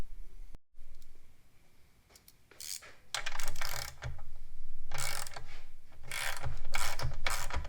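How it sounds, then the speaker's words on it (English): Ratchet wrench unbolting a bandsaw from its base, brisk bursts of clicking strokes up close, separated by brief pauses, with no talk. "So now I'm gonna unbolt this and we can start taking some measurements."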